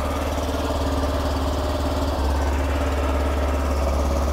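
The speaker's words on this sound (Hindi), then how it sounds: "वैसे एग्जॉस्ट नोट एक बार मैं आपको सुना दे रहा हूँ" A 2023 Honda Dio DLX scooter idles with a steady, low, buzzing exhaust note, close and continuous, with a slight rise in loudness midway and no talking.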